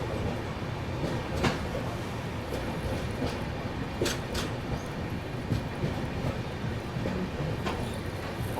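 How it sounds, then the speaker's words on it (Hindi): Kota Jan Shatabdi Express train arriving at a station, a steady low rumble with rattling clunks and squeaks from the cars close by. "और अभी सामने से जनशताब्दी एक्सप्रेस जो ना वो आने वाली है"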